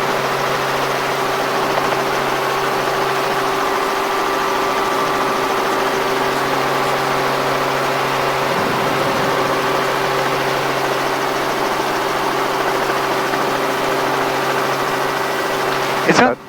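A Robinson R44 helicopter's engine and rotor in flight, heard from the cabin as a loud, steady droning hum with a constant tone, unbroken for the whole stretch.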